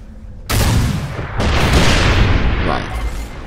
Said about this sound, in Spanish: el lanzagranadas hace daño